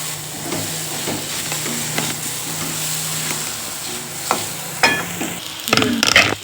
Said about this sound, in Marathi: हे बघा मंडळी, आपला मसाला छान परतत आहे. कसं कडेने तेल सुटत आहे.